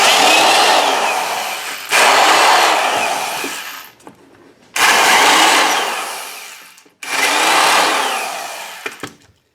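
A reamer cleans up holes freshly drilled in metal, running in three loud, close bursts of a few seconds each, each winding down, with short quiet gaps between.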